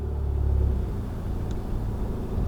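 A manual car rolling along, heard from inside as a steady low engine and road rumble that swells briefly, then settles to a constant drone.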